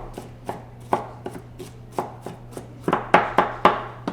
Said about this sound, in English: I'm just gonna go through and chop it real quick